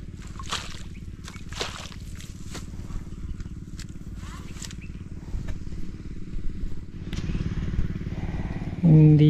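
A small gasoline engine running a water pump drones steadily with a rhythmic chugging, accompanied by splashing water and occasional clatter, with a brief louder burst at the end.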